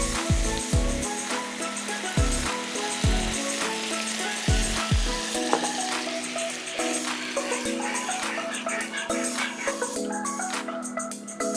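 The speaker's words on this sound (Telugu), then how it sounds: "ఇలా బటర్ రిలీజ్ అయ్యేంత వరకు యాపిల్ని ఫ్రై చేసుకోవాలి." Apple pieces fry in butter in a pan, a close crackling sizzle broken by several sharp clanks and scrapes of a utensil, with the hiss continuing underneath throughout.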